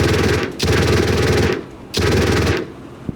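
Two sustained bursts of rapid automatic fire from the machine gun of a German Marder A1 infantry fighting vehicle in the game Gunner Heat PC, loud and close, with a short pause between them.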